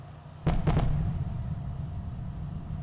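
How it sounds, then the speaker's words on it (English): Sonic booms from a Falcon 9 first-stage booster landing, picked up by drone ship audio: three sharp booming cracks in quick succession, the first apart from the next two, over a low steady rumble. "sonic booms from the drone ship audio"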